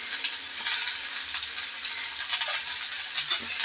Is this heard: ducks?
no